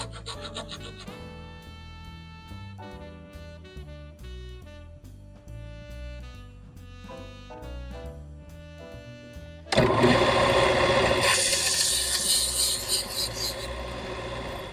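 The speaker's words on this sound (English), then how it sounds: "I'm just going to put the hacksaw blade right inside the material along this piece of wood" A hacksaw blade cuts aluminum braced against a piece of wood, a harsh rasping that starts about two-thirds of the way through and grows loud and steady over background music.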